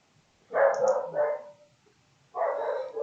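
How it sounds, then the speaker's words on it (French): Dogs bark outdoors in two bursts of loud, overlapping woofs with a short pause between them, fairly close by, and no one talking. "Désolée pour les aboiements, les filles font la fiesta à l'extérieur."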